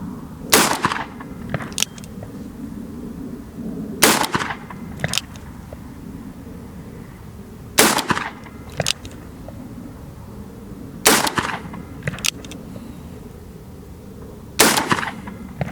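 Revolver shots fired one at a time, several loud sharp cracks spaced a few seconds apart, some followed closely by a second, quieter report, over a steady outdoor background hum.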